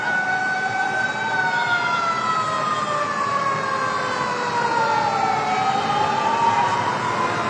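Fire engine sirens wail continuously at a large building fire at a shopping plaza in Itahari, Nepal, their rising and falling tones overlapping loudly and steadily with no speech.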